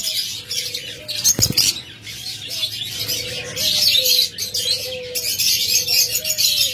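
A pair of pet birds kept inside a clay pot chirps and tweets repeatedly in short, near calls, over a steady hiss of busy background twittering.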